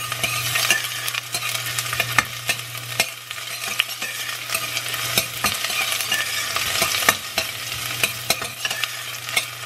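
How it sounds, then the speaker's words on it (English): Chopped purple onion sautéing in oil in a pan, a steady close sizzle broken by repeated scraping clicks of stirring, with a low constant hum underneath and no talking. "I'm going to go ahead and start sauteing that onion."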